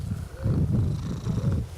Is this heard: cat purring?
yes